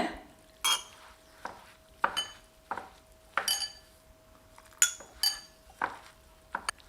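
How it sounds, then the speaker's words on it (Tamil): A spoon scrapes and clinks against a bowl while soaked semolina batter is mixed for rava potato pakoda, a series of sharp separate knocks and scrapes spaced about every half second over a quiet background. "எல்லாம் ஒன்று சேர நல்லா கலந்து விட்டுருக்கேங்க"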